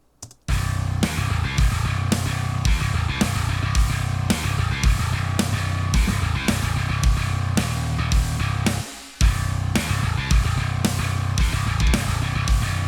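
A djent riff on a bass VST plays with drums, loud and steady with heavy chugging hits in a tight rhythm and one short break near the end.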